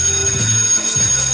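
Alarm bell ringing in a brief, loud, continuous burst, close and alone.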